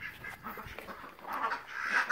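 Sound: ducks at feeding time

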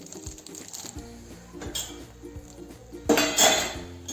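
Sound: lid removed from pan, fried peanuts added

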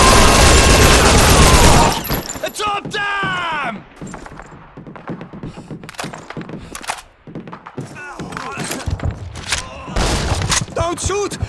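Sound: gunfire in video game Call of Duty 2

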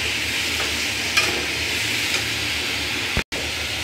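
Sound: chili, turmeric, ginger, garlic frying in curry pan

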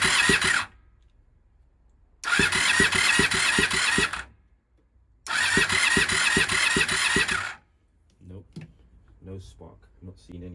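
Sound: Honda VFR400 NC30 motorcycle engine cranking

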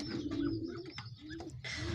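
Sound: pigeons cooing

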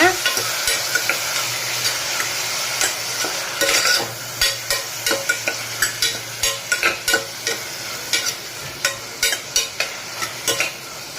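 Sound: sautéing vegetables in a pan

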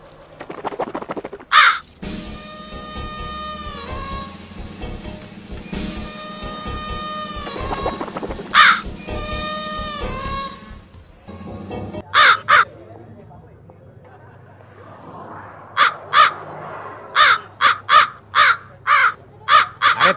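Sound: crows cawing

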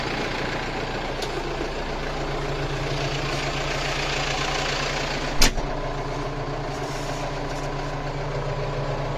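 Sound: tractor engine running

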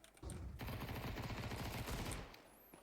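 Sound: gunfire in Counter-Strike 2 video game

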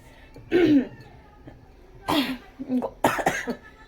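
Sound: coughing

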